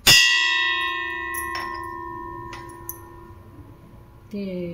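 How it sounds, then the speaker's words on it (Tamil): A single sharp strike on an antique bronze vessel, ringing out like a temple bell with a long, slowly fading metallic hum; a brief clack near the end. "கோயில் மணி மாதிரி சவுண்டு இருக்குது"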